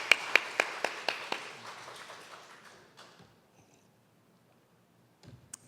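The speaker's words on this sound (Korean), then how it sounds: "우리 함께 박수로 격려해 주시면 감사드리겠습니다" Congregation in a church giving brief applause: a burst of sharp, scattered claps right away that fades out over about three seconds, followed by near silence.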